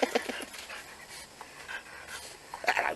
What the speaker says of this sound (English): There's some cracking dogs there